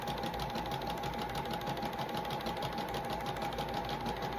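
A sewing machine stitches fabric while underwear is sewn, a steady, fast, rhythmic whirring and clatter that runs continuously, close and moderately quiet, with no talking.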